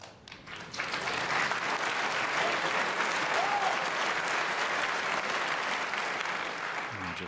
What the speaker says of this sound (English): Just have a feeling the crowd are going to clap every shot.